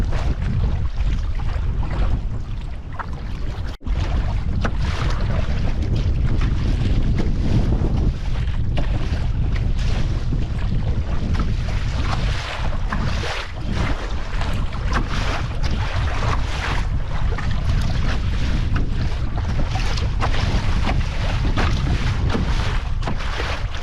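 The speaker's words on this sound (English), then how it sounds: "Some of these bigger waves. Got a lot of splashback in the canoe." Waves slosh and splash against a canoe on Catfish Lake in Algonquin amid heavy wind buffeting the microphone, a continuous rough rush with irregular surges.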